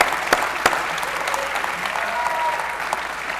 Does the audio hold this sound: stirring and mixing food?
no